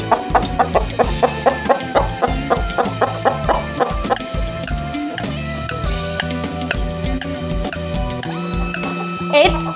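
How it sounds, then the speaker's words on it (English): A chicken clucks in a steady run of short, repeated calls, fairly close and distinct, heard on its own with no talking as part of a children's bird-sound guessing game. "It's chicken."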